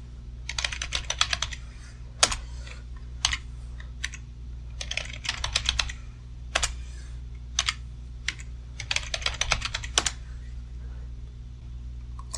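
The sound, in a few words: typing a password on a computer keyboard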